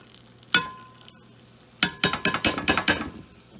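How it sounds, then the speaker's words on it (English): Apple pieces and onion sautéing in butter and olive oil in a pan, with a clack as they drop in, then a quick run of stirring scrapes and sizzling clatter close by. "we're just gonna basically saute them."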